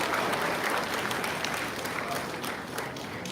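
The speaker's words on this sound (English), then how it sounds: "Let's go ahead and give her a big round of applause." Steady, dense applause from an audience at a SeaWorld animal show, loud and sustained for several seconds with no break.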